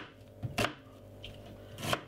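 A knife cutting a white onion on a board in a home kitchen, two or three quiet crisp chops spaced apart against a soft low hum, no talk.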